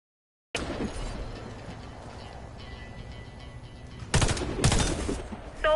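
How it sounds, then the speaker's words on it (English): Rifle fire at targets through a scope in a video game: a dense burst of rapid gunshots starts abruptly, then louder cracks and mechanical clatter follow near the end, close and loud without talk. "Hit the targets aiming through your scope."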